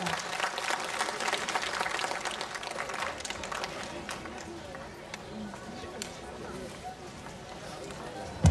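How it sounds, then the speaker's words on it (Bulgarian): Sustained applause from a crowd at an outdoor folk festival on the Bulgarian coast, honoring an orchestra; steady, dense clapping throughout with a rumble of background activity, no speech over it. "Аплодисменти за оркестър Конграция."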